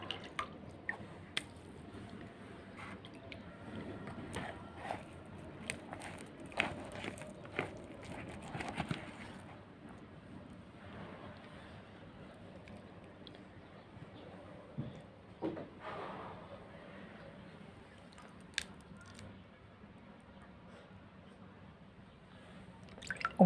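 Bread dough for Egyptian flatbread loaves being wetted with water by hand in a home kitchen, giving soft dripping and wet patting sounds, close and fairly quiet, with scattered small clicks and knocks.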